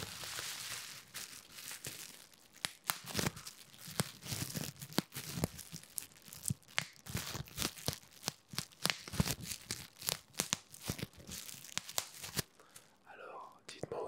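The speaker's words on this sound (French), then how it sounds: "aussi relaxant avec du papier bulle comme ça" Bubble wrap handled close up in an ASMR setting, giving steady crinkling and crackling with frequent sharp pops and snaps throughout, under soft whispered speech.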